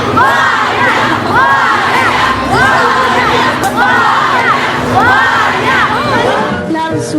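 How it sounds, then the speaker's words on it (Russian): Enthusiastic crowd at a show, cheering and chanting in a loud repeated rising call roughly every second and a half, with sustained crowd noise beneath. "громогласные аплодисменты восторженной публики, скандирующей"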